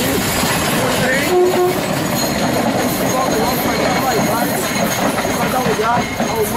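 A train on the suburban railway of Salvador, Brazil, passes with a steady rumble and rattle of wheels, while someone talks over it.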